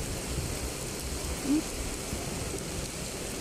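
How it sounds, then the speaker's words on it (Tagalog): Steady, dense rain pours down on a flooded street in Paco, Manila as a constant hiss without letting up, with a faint thump briefly rising above the wash. "Lakas sa ulan, eh."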